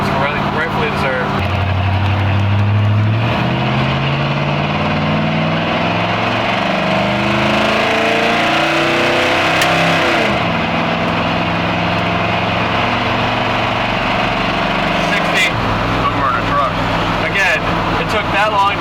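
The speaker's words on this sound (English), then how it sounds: "it has an absolutely amazing exhaust that honestly really brings this car to life" A 1966 Chevrolet Impala SS with its exhaust as it accelerates, a loud, deep engine rumble rising and shifting in pitch, heard from inside the car with people talking over it.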